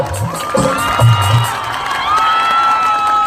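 A college crowd at a live Punjabi concert at SD College Barnala cheers, whoops and claps loudly and continuously, with children's shouts rising out of the broad roar.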